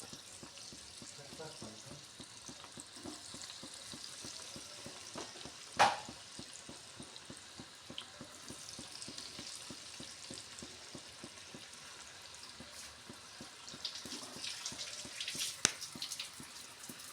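Cauliflower pieces fry in hot oil with a quiet, steady crackle and sizzle, rhythmic pops repeating throughout, with occasional clinks and soft background noise.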